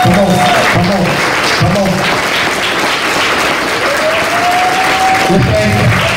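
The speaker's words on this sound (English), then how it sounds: "I need everybody to stand up and give them a round of applause." A church congregation at a Sunday service applauds children with sustained, loud, dense clapping throughout, while someone speaks encouragingly over it.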